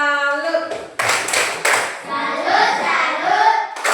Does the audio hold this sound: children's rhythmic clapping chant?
yes